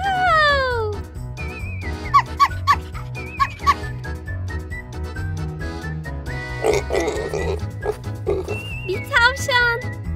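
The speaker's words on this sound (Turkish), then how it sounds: "Domuzlar." Pigs grunting and squealing over a bouncy musical backing, with high chirpy cartoonish squeals repeating throughout.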